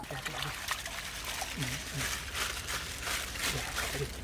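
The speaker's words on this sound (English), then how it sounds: "Yeah, put some water." Water trickles and pours into a plastic PVC pipe fish trap set for catfish and snakehead, a soft continuous stream with light splashing, fairly quiet and close.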